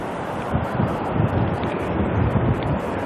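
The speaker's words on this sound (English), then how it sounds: "It's a bit breezy today." Steady breezy wind buffeting a microphone on Cable Beach near Broome, a continuous close rumbling roar with soft surf blended underneath.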